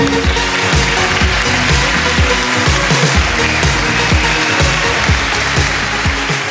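Dense, continuous applause from an audience welcoming a guest named Sharan at a stage event, loud and sustained with many overlapping claps and no pause across the whole stretch.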